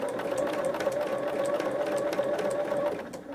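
A sewing machine stitches quilt pieces at a fast, steady pace, with a continuous rapid whirring hum close up and fairly loud. It stops near the end, and nobody talks.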